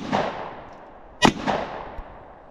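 A handgun loaded with 124 grain jacketed hollow points fires a single sharp, loud shot into drywall at close range, preceded and followed by softer rustling and handling noise.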